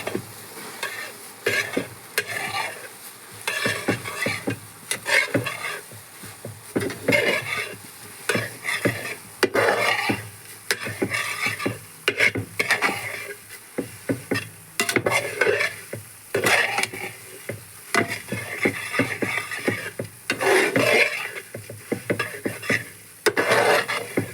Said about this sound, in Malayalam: ഇതെല്ലാം കൂടി നന്നായിട്ടൊന്ന് ഇളക്കി അങ്ങ് കൊടുക്കാം